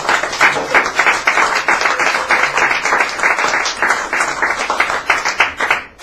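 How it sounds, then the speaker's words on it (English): Small café audience claps at an open mic night, a close, uneven burst of individual hands with audible separate claps, rising and dipping for about six seconds. "applause, ladies and gentlemen"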